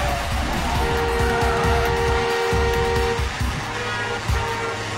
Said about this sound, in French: Ça roule bien vite là, hein.